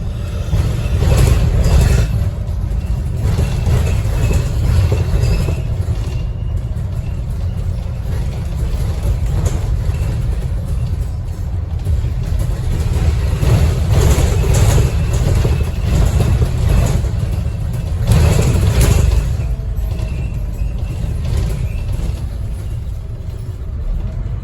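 A 2009 Scania N230UD Optare Visionaire bus heard from on board while driving, with its engine giving a continuous low rumble that rises and falls as it pulls away and changes pace, and no talk.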